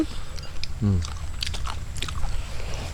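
Someone bites into a large grilled river shrimp, giving a short crunchy bite and then soft chewing sounds up close, with a voice talking over it.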